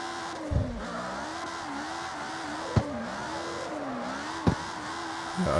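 Engine note from a gymkhana-built car on sports tires in the CarX Street racing game, a steady droning tone that rises and falls as the car changes direction, with three brief sharp bumps breaking through.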